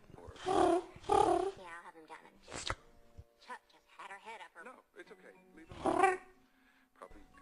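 A person's voice imitates a cat with drawn-out, meow-like cries, several loud bursts broken by quieter vocal sounds.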